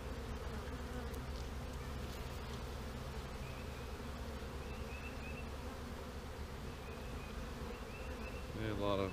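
Honeybees buzz in a dense, continuous drone throughout a hive opened for a Snelgrove split, close and steady, with individual bees whining past now and then.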